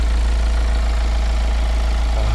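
A diesel engine idles steadily with a deep, constant low rumble, close by and unchanging throughout.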